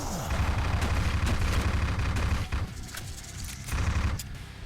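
SMG gunfire in a video game crackles in a dense, rapid burst, pauses briefly, then returns as another quick volley of shots, close and loud.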